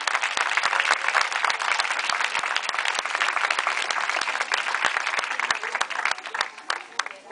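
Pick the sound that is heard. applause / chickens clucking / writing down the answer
applause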